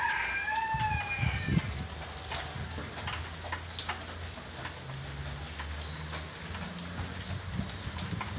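Rain patters steadily on potted plants during a dry spell broken by rainfall, a continuous soft hiss with scattered drops, while a rooster crows faintly in the distance and birds chirp.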